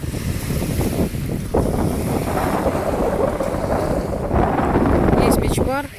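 Strong wind buffets the microphone on a sandy beach, a steady, loud roar with surf-like rushing throughout, a brief burst of higher crackle near the end.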